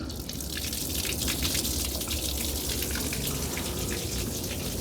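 Water runs from flush muffs on a Nissan 15 hp outboard motor, a steady close splashing gush with dripping, continuous and fairly loud with no talk.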